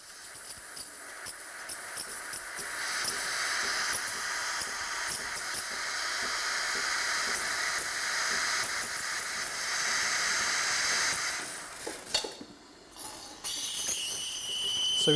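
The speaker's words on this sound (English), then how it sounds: "As soon as our espresso shot is finished, we engage the steam." Sage espresso machine steam wand steaming milk in a jug, a steady loud hiss running for about eleven seconds, then a brief gap and sputter before the hiss resumes, with no talking.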